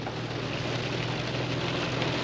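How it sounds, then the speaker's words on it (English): Heavy rain pouring steadily on an Oregon Trail outing, a dense, unbroken hiss with a low rumble underneath, close and loud with no voices. "it is raining cats and dogs out right now"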